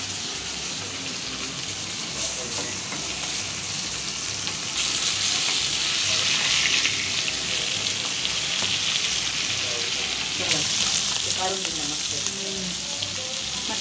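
Fish frying in a pan, turned to cook both sides until crisp, gives a steady, close crackling sizzle that grows louder partway through and holds to the end.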